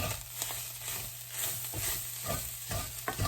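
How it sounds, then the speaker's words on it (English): Plain flour is stirred into browned meat and spices in a pan for shepherd's pie, with repeated scraping strokes of a spoon over a low sizzle. "Mix that in good with the meat and the spices."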